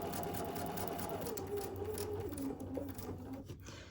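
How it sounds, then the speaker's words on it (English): A sewing machine stitches quilt fabric along a marked line, its needle whirring in a steady close mechanical rhythm that shifts pitch slightly toward the end as stitching slows. "I'm sewing right on the line."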